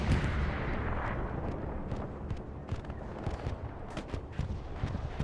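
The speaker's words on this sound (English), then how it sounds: "That's going to be an Axis bombing run going over to the back line to protect an airhead that's landing to the east." Explosions from an Axis bombing run in the World War II game Hell Let Loose, set at El Alamein, form a continuous, heavy rumble of distant blasts with sharper thumps scattered through it.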